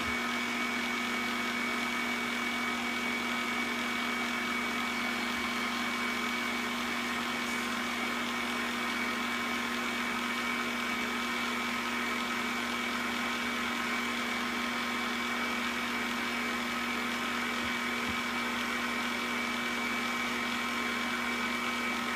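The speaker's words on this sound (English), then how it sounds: "I'm going to hit the extrusion button, which turns the fan on, which helps start drying the pasta." A Cooks Essentials Primo pasta maker extrudes spaghetti with its drying fan running, a steady, even motor whir and hum that stays level and close throughout without a break.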